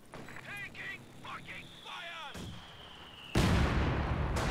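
Sniper fire in a competitive esports video game match, with game effects and voices early on, then a sudden loud, sharp blast near the end that rings out into a sustained wash of noise.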